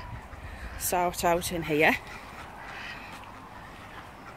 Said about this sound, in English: So, I'll take you into the chicken area.